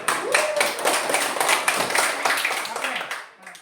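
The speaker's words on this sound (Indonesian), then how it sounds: "Tepuk tangan untuk mereka dulu." Students in a classroom clap together, a steady burst of hand claps lasting a few seconds and fading at the end, with faint voices mixed in.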